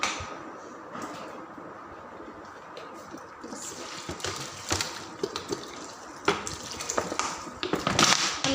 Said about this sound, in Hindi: नमक मिर्च और हल्दी ऐड करने के बाद इसमें पानी डाल देते हैं।